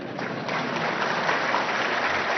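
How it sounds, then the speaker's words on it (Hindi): Audience applause in a Supreme Court hall, a sustained, dense clapping that keeps going loudly for the full two and a half seconds with no speech over it. "ये तो आपका विषय है, ताली बजा सकते हैं।"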